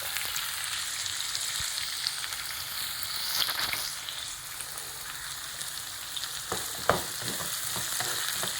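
Food sautéing in a pan over a low flame gives a steady soft sizzle with occasional light stirring scrapes and a sharp clack near the end.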